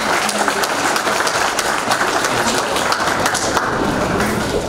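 An audience at an award ceremony for couples married fifty years, in Dărmănești, applauds loudly and continuously, a dense, sustained roll of clapping with scattered sharper claps.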